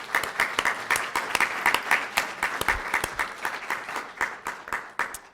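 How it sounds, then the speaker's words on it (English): An evening exhibition audience applauds its sponsors with sparse, distinct hand claps that stay moderately loud and steady, then thin out toward the end; no speech. "So applause for our exhibition sponsors."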